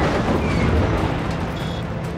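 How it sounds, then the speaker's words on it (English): A frag grenade goes off in Just Cause 3, leaving a loud, dense rumbling blast that holds steady and close for a couple of seconds with no talk over it. "Can I just toss a frag in there?"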